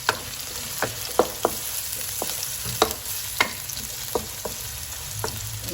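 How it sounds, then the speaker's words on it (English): Chili, onion and galangal sizzle and fry in a pan for a squid balado dish, a steady hiss broken by repeated sharp clicks of a utensil stirring and scraping against the metal, with no talking. "Saute it until it becomes light brown"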